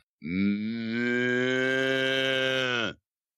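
A person imitates a cow mooing with one long, sustained, tonal low that swells briefly at the start and then holds steady before cutting off cleanly, loud and close.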